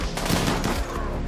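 Dense gunfire from RimWorld, with friendly fire raking allied troops in a rapid, overlapping fusillade of shots that stays loud and steady across the whole brief burst.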